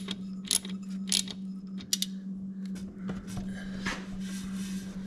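Small metallic clicks and ratcheting taps from a tool tightening a clamp on a radiator hose of a Honda Goldwing GL1500 motorcycle, close and quiet over a steady electrical hum.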